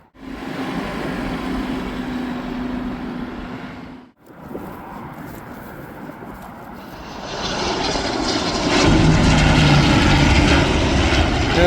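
An Aer Lingus airliner at Birmingham Airport roars with a loud, sustained engine drone that dips briefly, then swells louder and closer, with no talking over it.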